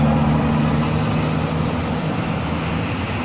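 A city bus passes on a busy street, a steady low engine rumble with droning hum tones and broadband traffic noise holding throughout, no voices.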